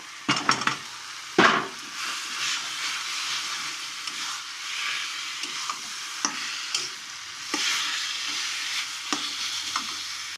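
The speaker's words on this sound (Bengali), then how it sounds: "এবার আমি ম্যাশ করে রাখা আলুটা কষিয়ে নেব।" Mashed potato filling with chaat masala is sautéed in a pan, giving a soft continuous sizzle broken by repeated sharp scrapes and clinks of a spatula stirring against the metal, fairly close and quiet.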